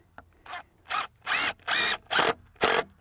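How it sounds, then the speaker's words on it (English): A power drill drives screws into the boards of a wooden garden box bed in six short bursts of close whirring. The bursts get longer and louder as each screw seats, with brief silent pauses between them. "Let's screw some of these in."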